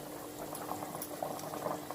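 Water boiling in a pot, a close, steady bubbling roil with soft popping bursts throughout.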